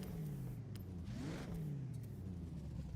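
A supercharged car engine revs in Forza Horizon, a loud, close whine that climbs and falls twice over a steady engine drone, with no voices.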